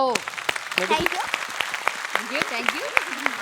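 An audience clapping briefly in scattered, sharp claps mixed with voices talking and a few exclamations, the claps fairly close and uneven.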